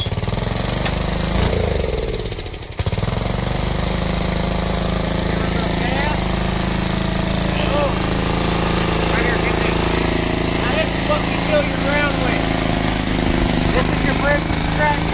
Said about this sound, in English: Full choke. Cranking this baby up.